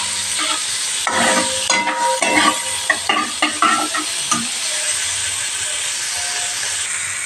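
Broccoli and pasta masala stirred in a pan with the flame off, a spoon scraping and knocking in a quick irregular run over a steady background hiss, then settling into a quieter sizzle.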